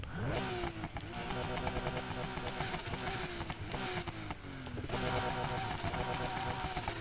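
A flat-six car engine in Need For Speed Heat revs repeatedly, rising in pitch then dropping back through gear shifts, loud and continuous with a growling tone.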